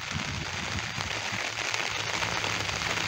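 Heavy rain falling steadily and fairly close in a flooded town street, a continuous dense hiss with scattered patter and crackling drops and no voices.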